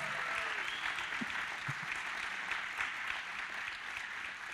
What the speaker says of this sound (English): we really need to give a warm shout out, a round of applause to Kevin Heimbach